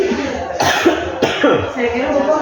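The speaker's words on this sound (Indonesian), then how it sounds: "saya batuk ya" Two sharp coughs break out close by, with a voice talking before and between them.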